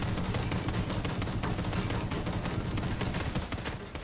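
Rapid, continuous shotgun fire from The Division 2 video game, dense booming blasts packed closely together at a steady loud level, with no pauses throughout.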